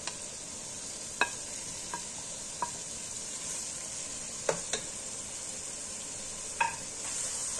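Half a kilo of minced mutton fries with spices in a pan for qeema matar. A soft, steady sizzle hisses underneath, marked by a handful of sharp clinks and scrapes of a spoon stirring, all fairly quiet, with no speech.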